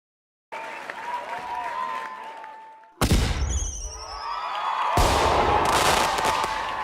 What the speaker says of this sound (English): Let's get some fireworks on the screen as well.